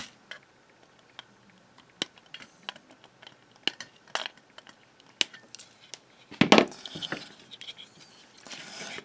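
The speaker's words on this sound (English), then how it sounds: "Cut those leads off." Wire cutters snip component leads off a QRPme PocketPAL II kit circuit board, giving a scattered run of sharp, close clicks and snaps at irregular intervals, with a louder cluster of rattling clatter near the end.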